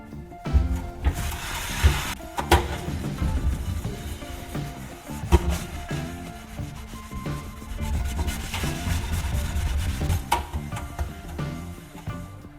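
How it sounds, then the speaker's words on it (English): A scrubbing pad works steadily over the bottom of a pan, giving a close, continuous rough rubbing with repeated strokes and a few sharper scrapes along the way. "After scrubbing for a while, I can already see the bottom of the pan getting a little shinier."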